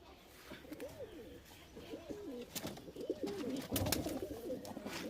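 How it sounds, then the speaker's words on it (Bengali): Several pigeons coo in a loft, soft rolling calls repeating one after another close by, with scattered clicks and rustling as the birds shift about. "এখান থেকে পায়রাগুলো দেখাবো আপনাদের"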